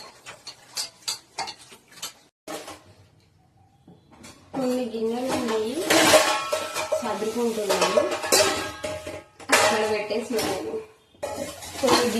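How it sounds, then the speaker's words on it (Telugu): Dishes and utensils clatter and clink as they are washed, with bursts of scrubbing and running water while someone talks over the work. "కొన్ని కొన్ని గిన్నెలు ఉన్నాయి తోమేసుకుంటే పని అయిపోతుంది"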